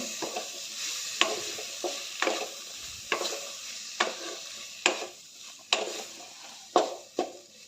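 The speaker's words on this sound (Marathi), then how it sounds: "वांग्याच्या फोडी घालून मिक्स करून घेऊया सर्व" Brinjal pieces are stirred in a hot pan, with regular scraping strokes of a spoon about once a second over a continuous close sizzle.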